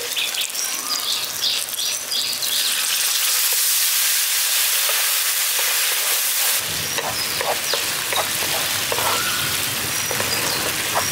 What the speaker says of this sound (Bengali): এখানে মশলাটাকে খুব ভালো করে একটু কষিয়ে নিচ্ছি